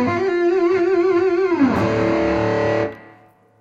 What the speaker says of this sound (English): if I click the solo button, I get a totally different dirty tone with a little bit of reverb and more gain